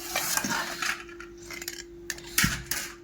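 A spoon stirs sugar syrup for boondi in a pan over a wood-fired stove, clinking and scraping against the metal in irregular strokes over a steady low hum, close by, without talk.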